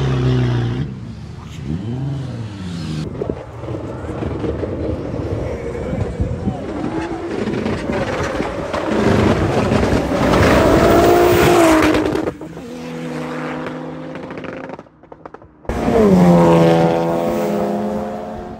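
A tuned Volkswagen-group TDI diesel car at a 400 m run event revs hard and accelerates, with rising and falling engine tones and loud bursts, while people talk over it.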